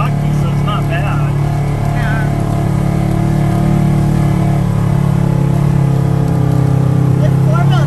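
A four-wheel drive vehicle rolls along a rocky dirt trail in Uwharrie National Park, its engine a steady, loud, close drone throughout.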